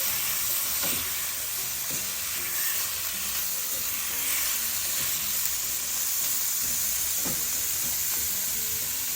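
Beef sizzles and browns steadily in a hot pan, a loud continuous frying hiss with occasional crackles and stirring scrapes, no voices.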